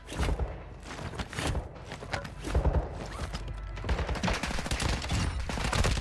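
Gunfire in Call of Duty DMZ, a first-person shooter, arrives as irregular close bursts and single sharp cracks over several seconds, mixed with footsteps and general game noise.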